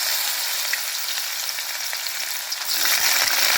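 Carrots and mixed vegetables for vegetable chowmein fry in hot oil with a steady, dense hiss that swells slightly toward the end, close and alone without voices.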